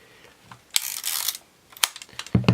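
Sharp mechanical clicks and a short ratcheting whir from an East German Exa Ia 35mm film camera, several separate snaps with pauses between them, close and fairly crisp.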